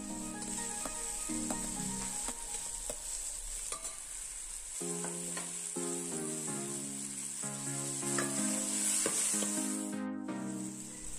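Chopped tomatoes sizzle and get stirred in a pan for beef macaroni, a soft hiss with scraping strokes beneath a loud musical backing.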